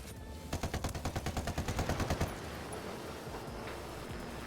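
AK rifle fire in a video game, a rapid automatic burst of about fifteen evenly spaced shots over under two seconds, then quiet background ambience, moderately loud with no voices.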